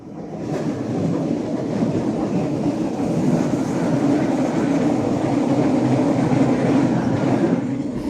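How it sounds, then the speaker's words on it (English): A train in Switzerland's Jungfrau Region, Bernese Oberland, rumbles steadily along the rails, a loud continuous roar with faint rhythmic clatter throughout. "You will also encounter another very fast train on this route"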